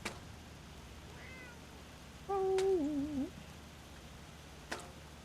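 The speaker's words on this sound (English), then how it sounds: "What's up, kitty, kitty?" A cat gives a clear wavering meow, and a fainter meow comes just before it, against quiet room noise. A couple of soft clicks can also be heard.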